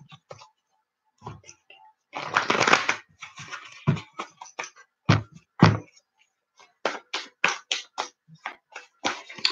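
Tarot cards being shuffled by hand during a live reading, giving a series of crisp, close riffling bursts and sharp slaps, with a longer dense riffle early on and quick repeated taps toward the end.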